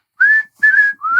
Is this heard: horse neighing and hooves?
no